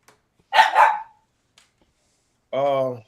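A dog gives two quick barks close by, followed after a pause by a longer, higher whining yelp, with no other sound between them.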